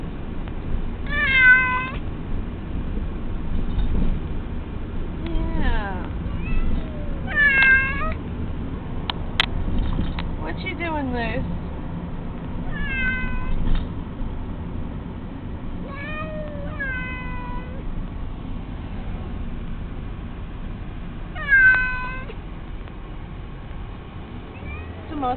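A house cat cries and meows loudly and repeatedly, drawn-out wavering yowls scattered over the clip, close by, above a steady low background rumble.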